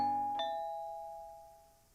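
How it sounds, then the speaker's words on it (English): A doorbell in a visual novel game rings once as a clear two-tone ding-dong, the second note ringing out and fading slowly in quiet surroundings. "Just then, the doorbell rings,"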